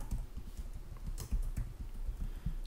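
A folder name typed on a computer keyboard while setting up a shared folder on a Windows Server virtual machine: a quick run of close, light key clicks in an uneven rhythm, heard alone without talking.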